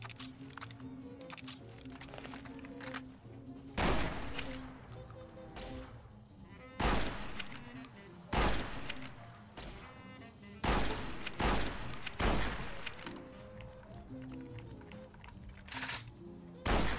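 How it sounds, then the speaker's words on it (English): Gunfire in Fallout: New Vegas, repeated sharp loud shots in short bursts spread across the stretch, over a quieter game background. "Nice shooting."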